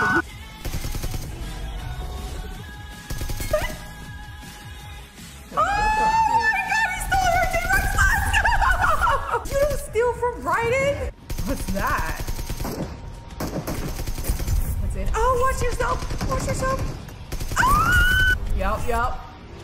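Bursts of video game gunfire, including rapid automatic fire, from an online shooter match, heard under excited, overlapping player talk and shouting throughout.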